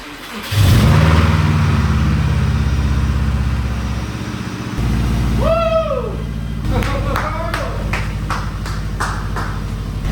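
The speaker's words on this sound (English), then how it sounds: "All right, let's see if this thing starts." A Subaru Legacy Spec B engine cranks, catches and starts, then idles with a rough rumble and revs up, loud and close, with voices talking over it.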